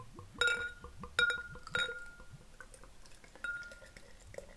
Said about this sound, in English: So I'll pour it out as such.